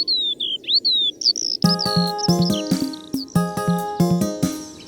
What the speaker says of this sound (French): utilisons donc les 2 oreilles pour écouter les oiseaux.